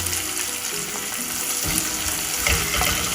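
Annatto goes into a pan of oxtail kare kare with onions, giving a continuous sizzle and fry with a few stirring clatters, close and fairly loud, with no talking.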